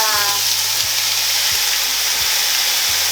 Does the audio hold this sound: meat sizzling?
yes